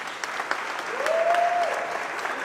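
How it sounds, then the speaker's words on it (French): Steady applause from an audience at a fashion show model selection runway, a dense wash of clapping hands throughout with a faint whistle-like tone rising briefly in the middle. "merci d'acclamer le second passage pour la sélection de mannequins Annual Show, sous vos ovations"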